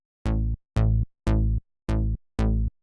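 Rubber BS2 synth bass preset played softly at low velocity, five separate deep, muted notes evenly spaced with short silences between, dull and rounded, nothing else heard.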